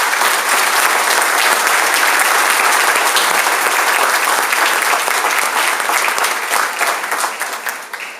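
An audience at a sixth grade awards ceremony gives a big round of applause for students, dense sustained clapping throughout that tapers off slightly near the end.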